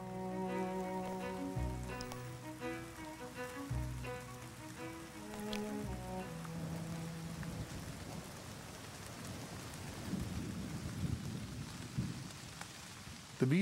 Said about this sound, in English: Those who remain face the full force of the rain.